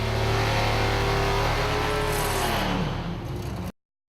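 A car accelerates hard on a track, a loud, steady engine roar rising in pitch before cutting off abruptly near the end.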